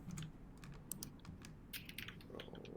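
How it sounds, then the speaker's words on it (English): Someone types on a computer keyboard in short irregular bursts of crisp clicks, fairly quiet and close, with no voices over it. "that's Cody typing away."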